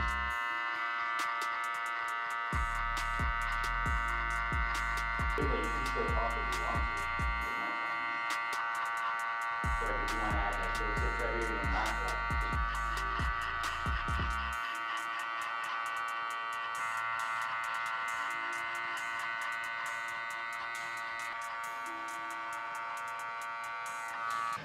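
Electric hair clippers cutting a fade guideline near the temple, a steady close buzz running throughout, deepening in two long bursts as the blades work through hair, with no talk.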